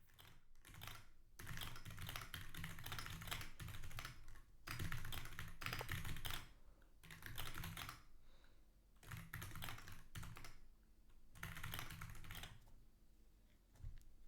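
Computer keyboard typing in bursts of rapid keystrokes separated by short pauses, steady and close, with no voices.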